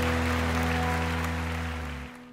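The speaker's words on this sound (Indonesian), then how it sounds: "Tepuk tangan buat Tuhan kita" Clapping for a children's online Sunday school worship, a dense steady patter over a sustained musical tone that fades out near the end.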